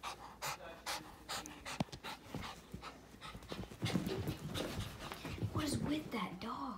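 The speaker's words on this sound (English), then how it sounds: "What is with that dog?" A dog pants in quick, breathy bursts close by, with people talking softly over it.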